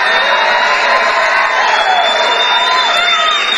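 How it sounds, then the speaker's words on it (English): Loud, dense crowd noise at a Trump rally, cheering and whooping continuously with a steady roar of many voices throughout, no single speaker standing out. "The crowd makes it even worse."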